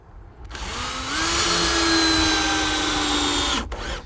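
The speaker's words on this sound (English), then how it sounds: "we'll attach this with some more of these stainless steel screws" A power drill drives stainless steel screws into a wooden porch stair stringer, its motor whining steadily and loud for about three seconds before stopping.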